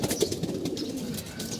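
Pigeons kept for racing coo softly and steadily, close by, a low continuous murmuring with no voices over it.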